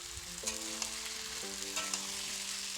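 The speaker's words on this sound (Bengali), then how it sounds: "এবার ছোলাগুলোকে দিয়ে দিলাম, ভেজানো ছিল ছোলা, ভিজিয়ে রেখেছিলাম।" Soaked chickpeas tossed and stirred in a hot oiled pan for a vegetarian dish, giving a steady close sizzle with a few soft scraping stirs and clinks throughout, no talking.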